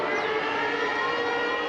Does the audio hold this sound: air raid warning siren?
yes